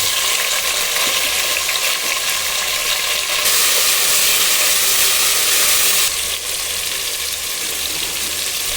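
Curry leaves and washed tomato hit hot oil in a pan while Andhra-style sambar is being made. A loud, steady sizzle and crackle runs throughout and surges briefly in the middle, with no talking.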